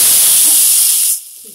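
Hot tadka poured into a pot of masala dal khichdi, a loud close burst of sizzling hiss that holds steady and then drops away abruptly near the end.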